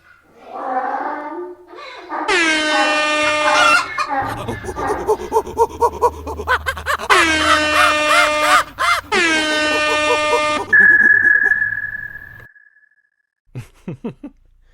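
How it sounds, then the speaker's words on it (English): Air horn sound effects added to a podcast blare in several loud, sustained blasts, with barking-like and other effect sounds mixed between them and short bursts near the end. "As many, sound effects as you can put in, air horns"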